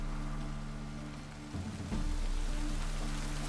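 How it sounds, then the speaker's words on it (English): Rain falls steadily in The Witcher 3, a constant hiss of drops over a low droning hum, slightly swelling toward the end with no voices. "Looks like rain."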